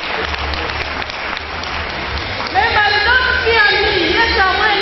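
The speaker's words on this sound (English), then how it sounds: "Can we clap for her?" Audience applause at a memorial lecture, a dense wash of clapping that swells partway through, with a speaker's voice carrying over it.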